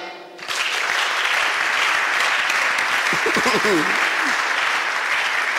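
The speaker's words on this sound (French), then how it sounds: "Acclamez." A church congregation bursts into loud, sustained applause that swells quickly and holds steady, with a voice briefly rising over the clapping.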